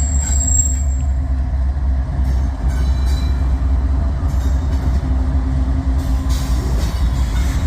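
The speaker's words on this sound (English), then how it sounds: "CSX coming out of the intermodal yard out of North Baltimore. Just starting up." CSX freight train pulling out of an intermodal yard at North Baltimore, a heavy continuous rumble of rolling cars with faint wheel squeal and clanking, close and steady throughout.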